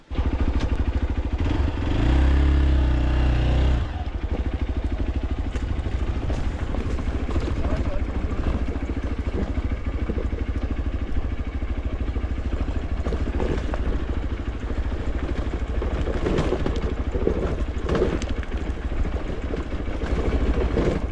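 Motorcycle engine riding down rough off-road terrain on a mountain pass, a steady close engine drone with clattering and a louder low rumble burst early on.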